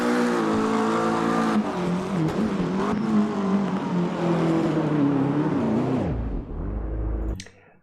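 An engine revs hard and steady with shifting pitch in a driving video game, then drops off abruptly near the end with a brief low rumble, loud and close with no voices.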